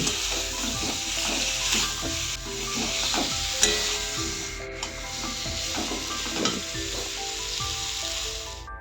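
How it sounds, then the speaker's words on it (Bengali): Potato pieces frying with ground spices in a pan, a continuous close sizzle broken by repeated scraping and rubbing strokes of a spatula as they are stirred and broken up. "এবার আলুগুলোকে ভালো করে একটু ভেজে নেবো মশলাটার সাথে"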